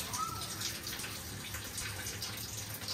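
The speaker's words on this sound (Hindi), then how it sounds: "दोनों से पानी निकल रहा दोनों है। से पानी आ रहा है।" Water runs steadily from a tap in a home setting, a continuous broadband hiss and splash that holds at a constant level throughout, close to the listener.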